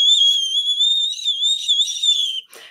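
A high, wavering whistle made with the tongue against the roof of the mouth, the kind used to call sheep or dogs, holds steady and loud for over two seconds and then cuts off abruptly.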